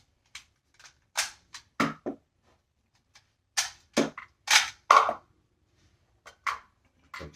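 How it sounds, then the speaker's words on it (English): Sharp pistol or rifle shots fired one after another at an irregular pace, some in quick pairs, each a crisp crack with a short tail, close and loud with quiet gaps between. "Like shooting that one."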